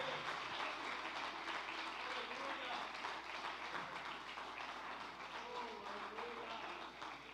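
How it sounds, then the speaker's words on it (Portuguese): A church congregation applauds together in steady, sustained clapping that fills the room, with voices mixed in underneath the applause. "Desocupe as suas mãos e aplaude o Senhor Jesus"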